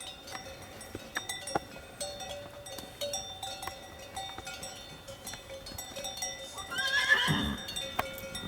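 Mérens horses in the wild Ariège countryside, with scattered hoof knocks and jingling bell clinks before one horse lets out a rising, quavering whinny near the end, moderately distant outdoors.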